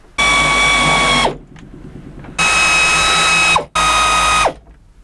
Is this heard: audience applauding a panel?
no